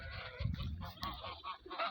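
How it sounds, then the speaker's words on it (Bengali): Several geese of a Saudi Arabian breed honk and call in overlapping, fairly faint bursts, as if from a small nearby flock. "এগুলো হচ্ছে আরেক ধরনের রাজহাঁস"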